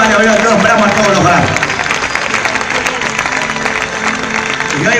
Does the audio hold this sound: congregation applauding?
yes